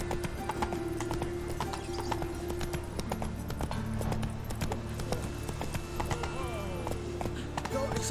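Roach, a horse in The Witcher 3: Wild Hunt, gallops with a steady, fast clip-clop of hooves, loud and close throughout, with a whinny and game sounds mixed in.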